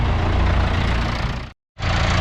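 A tractor engine rumbles loudly and close, cutting out abruptly for a fraction of a second before resuming at the same heavy level.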